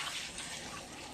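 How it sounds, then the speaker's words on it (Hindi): Water pours steadily into a cooking pot holding goat trotters for nalli paya soup, a continuous close splashing gush with no talk over it. "उसके बाद पानी डाल देंगे इसमें।"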